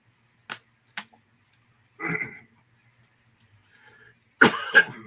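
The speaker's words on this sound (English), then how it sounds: "I just have a cough I can't get rid of." Several short, close coughs, a couple of quick dry ones followed by harsher throat-clearing bursts, separated by quiet pauses.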